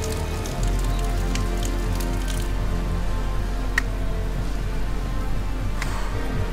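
Rain falls steadily during a mountain hike as night comes on under a lightning storm, a dense continuous patter close by with occasional sharper drops and cracks, and no talking.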